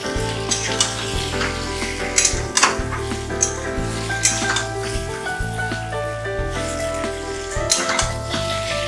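Five medium potatoes are fried and sautéed with hing in a pan for an alur dom, giving a steady close sizzle with occasional stirring clinks, under continuous background music.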